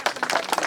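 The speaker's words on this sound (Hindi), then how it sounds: "ताली बजाओ भाई।" A crowd at a Harela festival gathering in Kotdwar, Uttarakhand, breaks into brief clapping: a quick flurry of overlapping hand claps, fairly close and lively, lasting under a second.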